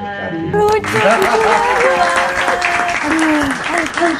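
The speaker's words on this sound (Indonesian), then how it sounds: "Editor tolong tambahin tepuk tangan ya." Clapping from a small group breaks out and carries on for a few seconds, with voices talking and laughing over the applause.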